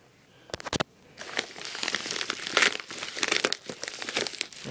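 A taped-up plastic bag holding a Zippo lighter is torn open, with a few quick scrapes and then a rising stretch of close, continuous crinkling and crackling plastic, and no speech.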